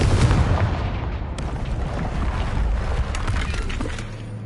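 A Confringo fire spell from Hogwarts Legacy bursts loudly at the start, then rumbling, crackling debris and explosive noise roll on steadily for several seconds.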